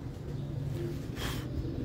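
Teddy pigeons coo softly with a low, murmuring call, faint and close amid quiet background noise, with a brief rustle partway through.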